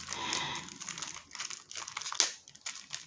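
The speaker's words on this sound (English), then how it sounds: "as soon as I can figure out how to open the plastic" Plastic packaging around a pen crinkles and tears close by in short irregular bursts, a dry rustling crackle with no talking.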